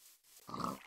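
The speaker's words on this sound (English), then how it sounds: "Here I have my pig pen." Minecraft pig grunts once in the game's pig pen, a short, faint, nasal oink rising out of quiet near the end.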